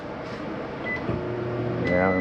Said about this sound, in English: Not much to talk about over here other than your microwave.